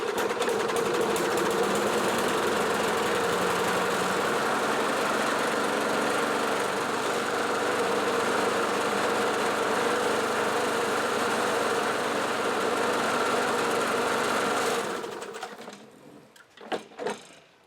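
Repaired Bolens walk-behind lawn mower engine running at a steady buzzing idle for about fifteen seconds, then cutting out, followed by a few faint clicks and knocks.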